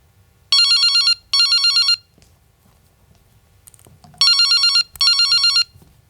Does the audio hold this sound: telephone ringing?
yes